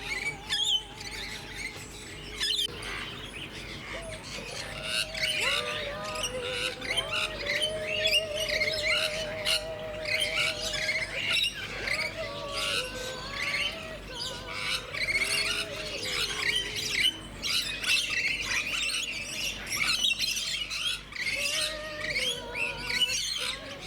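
Small finches chirp and squawk almost continuously, a busy chorus of overlapping high calls and twittering notes, fairly close and steady throughout with no talking.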